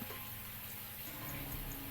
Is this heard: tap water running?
yes